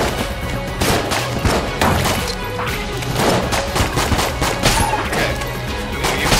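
Rapid gunfire from the game Enter the Gungeon, a dense, continuous barrage of loud shots and impacts with no pauses throughout.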